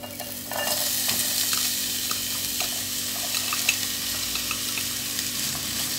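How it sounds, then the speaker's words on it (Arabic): Onion sautéing in olive oil in a frying pan gives a steady close sizzle that starts suddenly and continues evenly, with light crackles and occasional stirring taps and no speech. "غادي ناخذ مقلات، غنوضع فيها واحد شويه ديال زيت العود، غادي البصله تشحر"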